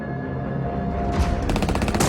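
Simulated gunfire plays through loudspeakers, mimicking a major attack during the D-Day landings: a rumbling background breaks into loud bursts of rapid machine-gun fire for the final second.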